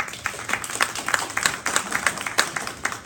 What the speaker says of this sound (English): Give him a quick round of applause.